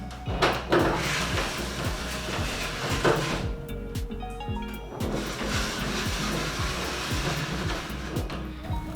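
A second motorized roller door on a shed rolls upward with a continuous whirring motor and rattling metal slats. The sound stays steady and close, with a few clanks partway through.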